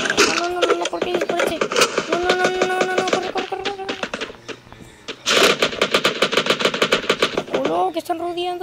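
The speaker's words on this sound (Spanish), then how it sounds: "esto se está formando en una balacera" Free Fire video game shootout with loud, rapid bursts of automatic gunfire, continuous at first, pausing briefly, then resuming in dense volleys, with a voice talking over parts of it.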